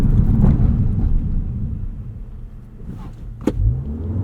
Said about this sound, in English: let's try a quick launch here